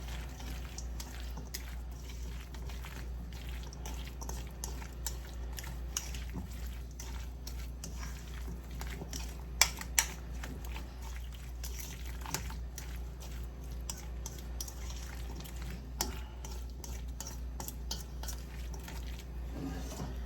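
A spoon mixing chicken salad with lemon pepper in a bowl makes soft, steady stirring and scraping sounds with occasional light clinks against the bowl, quiet under a low background hum.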